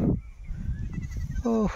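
Two short, close goat bleats at dusk near a rice paddy, one at the start and one at the end, with quiet rustling and low background noise between them.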